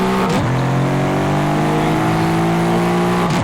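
A car pulls away in the Ukraine GTA driving game with a loud, steady engine drone, its pitch sweeping up at the start and again near the end.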